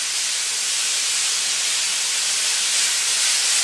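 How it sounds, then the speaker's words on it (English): Cheesesteak meat searing in a very hot cast iron pan, giving a loud, steady, dense sizzling hiss that runs unbroken throughout. "We want to sear this meat to cook it."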